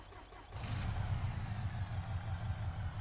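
An old 1940s-era car engine cranks briefly and catches, then settles into a steady, loud, low rumbling idle close by, with no one speaking.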